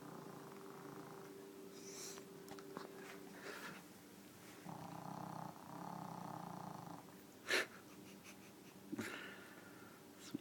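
A sleeping deaf dog snores softly and close by in slow, rhythmic raspy breaths, with a few faint wheezy snorts and one brief sharper sound midway.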